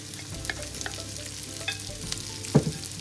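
Chopped onions being sautéed in a paste for Kerala-style chicken curry, a soft steady sizzle dotted with light stirring taps, then one louder knock of the spoon against the pan near the end, no voices.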